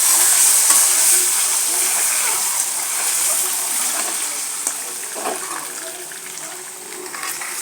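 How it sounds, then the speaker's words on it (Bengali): Eggs fry in a pan with a steady, bright hiss that fades slowly, while occasional light clinks and scrapes of a utensil come through close by. "ডিমগুলা ভেজে নিলাম"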